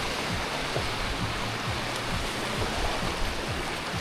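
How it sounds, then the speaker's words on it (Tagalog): Rising high-tide waves on a provincial coast churn in a steady, hissing roar, with small splashes breaking through the constant wash and no voices. "Balik na tayo, medyo lumalaki na yung alon."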